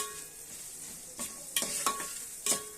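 Masala and salt frying in a pan give a soft, continuous sizzle broken by several sharp scraping stirs of a spoon against the pan, moderately quiet and close, with no speech.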